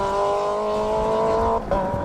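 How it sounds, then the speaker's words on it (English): A Renault Clio rally car with a 2-litre engine, car 71, drives a Manx Rally stage in dusty, breezy conditions. Its engine holds a loud, steady high-revving note close by, then dips briefly as the driver lifts and picks up again. "Car 71, the Renault Clio, Rich Carey"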